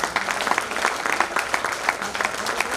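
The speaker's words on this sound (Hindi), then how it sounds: "पूरी टीम के लिए तालियां बजाएं।" Audience applause fills a heart club meeting in an Indore auditorium, dense clapping from many hands at steady moderate loudness, with a faint voice underneath.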